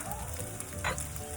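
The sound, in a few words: gnocchi pan frying with sun-dried tomatoes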